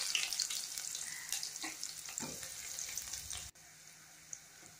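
Spices and onions sizzle and crackle loudly in hot oil in a pot, a steady close frying hiss that briefly softens near the end.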